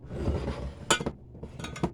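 Glass jars knock and clink together as they are handled beside a vacuum sealer, with a bright cluster of clinks near the middle and another toward the end over low handling noise.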